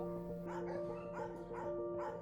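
Several dogs bark in repeated bursts at a rescue kennel in Benferri, Spain, close and fairly loud over a steady hum, with yips between the barks.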